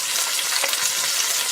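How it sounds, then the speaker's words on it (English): Chicken pieces browning skin side down in a hot pan for a braise, a loud, dense, continuous sizzle and crackle of rendering fat, close up with no talking. "cook those first, skin side down, render that fat out"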